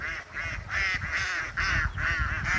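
A large flock of farm ducks on an irrigation canal quacks and honks continuously in loud, pulsing bursts with no talking.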